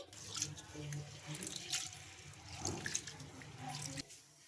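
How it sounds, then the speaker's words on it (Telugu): Split moong lentils are rinsed in a bowl of water, with sloshing and splashing going on while a person talks over it. "వీటిని రెండు సార్లు శుభ్రంగా వాష్ చేసుకోవాలి"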